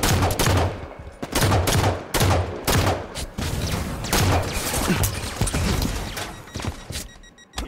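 Rapid bursts of video game gunfire crackle loudly and repeatedly, with short pauses between volleys over about eight seconds and no talking.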